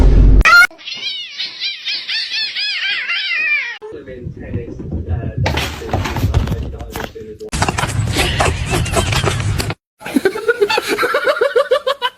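Cats fighting trade loud, high yowls and caterwauls, then scuffling bursts and hissing, close and harsh, with laughter mixed in near the end.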